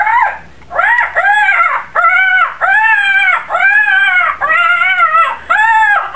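Hens and a rooster in a farmyard puppet-show retelling of Chaucer squawk in alarm, a run of loud, close, repeated crowing-like cries in rhythmic bursts with only short gaps between them.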